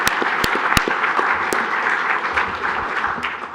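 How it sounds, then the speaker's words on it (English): Applause fills the room at a Royal Oak city commission meeting, a continuous patter of many hands with a few louder close claps near the start, holding steady for several seconds. "Yeah, let's clap, yeah."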